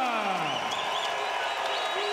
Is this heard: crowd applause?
yes